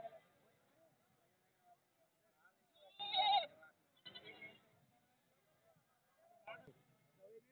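Goats bleat at the Wednesday livestock market in Siddipet, a few short calls standing out against a quiet market backdrop.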